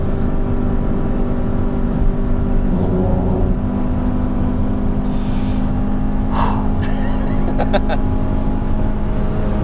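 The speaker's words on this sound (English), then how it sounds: "Gentle lift, tap a bit on the brake, turning in, flat on the gas." A Honda CRX on the Nürburgring puts out a loud, sustained engine drone under acceleration, steady and close from inside the car, with a brief higher whine and some clicking near the end.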